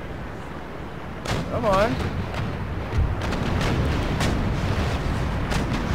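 Naval cannon fire in Empire Total War, a string of booming shots and rumbling impacts during a sea battle, with someone speaking over the gunfire.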